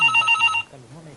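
A telephone bell rings in rapid, trilling pulses for about half a second and then stops, with talk continuing quietly under and after the ring.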